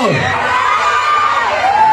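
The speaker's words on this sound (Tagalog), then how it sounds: "Parang mahina po ang inyong mga sigaw." Crowd at a Pasig mayoral campaign rally in Barangay San Joaquin shouting and cheering, a loud, dense wash of many voices with some high whoops, sustained throughout.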